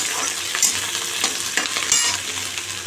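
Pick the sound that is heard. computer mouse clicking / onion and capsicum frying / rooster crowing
onion and capsicum frying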